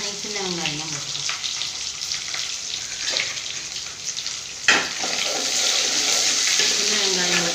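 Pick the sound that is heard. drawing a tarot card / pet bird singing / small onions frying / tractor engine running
small onions frying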